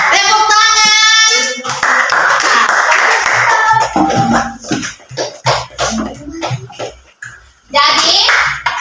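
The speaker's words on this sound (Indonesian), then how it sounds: "Tepuk tangan." Schoolchildren in an elementary school classroom break into a long burst of hand clapping, dense and close, mixed with children's voices and chatter that continue as the clapping fades.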